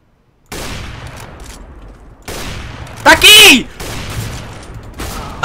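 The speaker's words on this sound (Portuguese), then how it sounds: "Eu mandei um tiro lá para dentro, não o matei!" Bursts of gunfire in the video game CS:GO crack out in loud rapid volleys separated by brief gaps, with one especially loud close shot and a player shouting between them.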